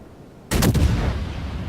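Ship cannons fire in the naval battle game World of Warships: silence, then a sudden loud booming volley with a few rapid overlapping blasts, followed by a lingering rumbling decay.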